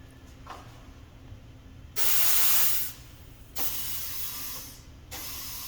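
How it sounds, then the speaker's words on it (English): Compressed air tops up a car tire on a tire changer. Three loud hissing bursts of different lengths stand out over a quiet background, each starting and stopping sharply, with no talking. "I'm just going to top this tire up with air"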